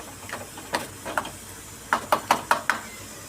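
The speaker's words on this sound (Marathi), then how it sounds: "तेल सुटेपर्यंत आपल्याला चटणी तळून घ्यायची आहे चांगली" Chutney fries in oil with a soft background sizzle, broken by a quick series of sharp, rhythmic taps of a utensil against the pan.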